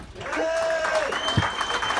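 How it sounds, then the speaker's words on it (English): Wedding guests applaud the best man with a dense, steady wash of clapping that holds at an even level throughout, mixed with crowd chatter and a few brief voices and whistles. "He's the man, he's the best man, so please give him a big round of applause."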